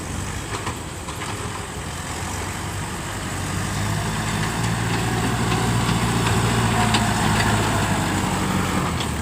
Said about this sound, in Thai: ฟูโซครับฟูโซ กำลังจะลงมา แต่ทางมันยังไม่เรียบร้อยดีครับ